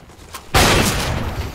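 A sudden loud pistol blast in a video game erupts after a quiet moment and rings out in a sustained booming burst lasting about a second.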